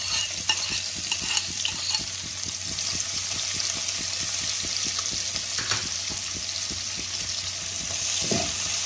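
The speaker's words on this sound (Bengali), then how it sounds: "ভালো করে লাল করে ভেজে নেব" Chopped onion and green chillies frying in oil for a boroli fish jhal, a continuous bright sizzle with rapid regular stirring scrapes of a spatula, close and fairly even.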